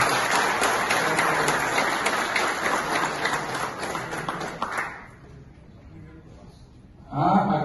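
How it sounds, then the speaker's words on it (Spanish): Crowd applause and clapping fill the first five seconds, loud and dense, then fade to quiet before a voice begins. "pido un fuerte aplauso para ellos."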